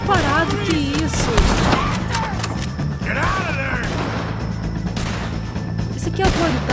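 Gunfire from a shootout against O'Driscolls in the video game Red Dead Redemption 2, with repeated shots and impacts spread across the clip under game voices and a steady background score.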